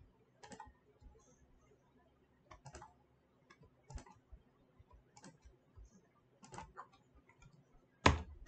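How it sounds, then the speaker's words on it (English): A computer keyboard gives sparse, faint clicks at irregular intervals while the X key is pressed and held, ending in one sharper, louder tap near the finish. "I'm just clicking hold of X, and the screen capture software is showing too many X's."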